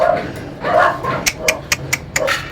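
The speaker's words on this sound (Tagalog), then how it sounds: "Patay, sumabay pa yung aso, maingay." Dogs bark in short sharp yips, six or so spaced quick barks that stand out over a person talking, close to moderately near.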